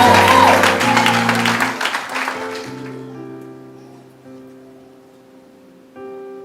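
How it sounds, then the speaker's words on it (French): A church congregation bursts into clapping and cheers, loud at first and then fading after about two seconds, while sustained keyboard chords ring on beneath and continue alone to the end. "Acclamez pour monsieur le mari."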